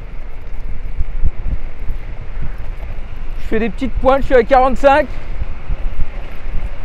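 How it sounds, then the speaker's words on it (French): Strong wind buffets the microphone while someone rides a Kugoo Kirin G2 Pro electric scooter at speed, a steady low rumbling roar throughout, with someone briefly speaking over it. "Il y a beaucoup de vent. J'espère que vous allez bien m'entendre. Parce que je me prends le vent en pleine gueule"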